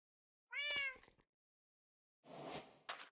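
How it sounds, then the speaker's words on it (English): A cat in the Minecraft video game gives a clear, close meow, followed after a pause by a rougher, noisier second call, alone against silence. "Come on, kitty."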